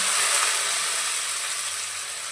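Onions, mustard seeds and dry chillies fry in hot oil for bele rasam, giving a steady loud, close sizzle that fades slightly over a couple of seconds.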